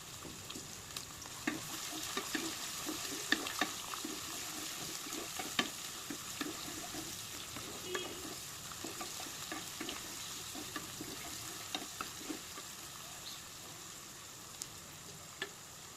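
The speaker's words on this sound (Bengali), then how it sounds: "এবার মোটা মোটা করে কেটে নেওয়া পেঁয়াজের টুকরোগুলোকে দিয়ে দিচ্ছি। এগুলোকে একটু লাল লাল করে ভেজে নেব।" Thick-cut onion pieces fry in hot oil with cumin for a chicken biryani, a steady close sizzle broken by scattered clicks and scrapes of stirring, with no voices.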